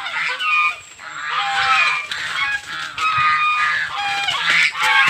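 Geese honk repeatedly and loudly, several birds calling over one another in a noisy, continuous chorus close by.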